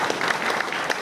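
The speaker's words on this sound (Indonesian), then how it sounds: "tepuk tangan untuk kabupaten Gianyar" An audience at a gathering in Gianyar regency, Bali, gives a brief, dense burst of clapping, steady and moderately loud for about a second.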